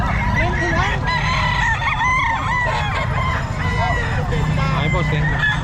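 Game-farm roosters at the Bocaue pet market crow repeatedly and overlap, with clucking and market chatter underneath and someone talking throughout.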